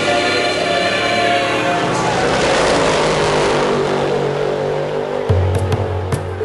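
Twin-turbo 9.3-litre V8 car accelerating hard, a loud close engine roar building over several seconds, then a sharp burst of revving and thumps near the end.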